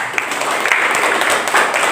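Classroom applause: a crowd of students claps together in a dense, steady burst of loud patter that carries evenly from start to finish.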